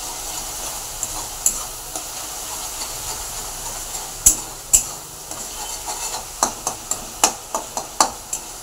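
A spoon stirs egg curry with tomatoes in a pot on a gas stove, giving light scraping clicks and taps over a soft oily sizzle, with the taps coming quicker and more regular toward the end.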